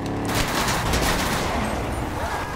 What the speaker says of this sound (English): I'm trying to avoid gunshots